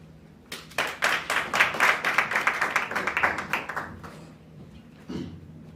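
Audience at the launch of a national security association breaks into a round of applause, about a dozen clear claps building then tapering over several seconds, ending with a lone thump.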